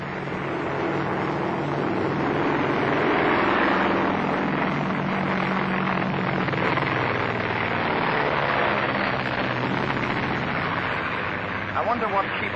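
Airplanes drone overhead in a 1939 film scene, a steady, loud engine hum that swells slightly and holds throughout, with voices underneath near the end.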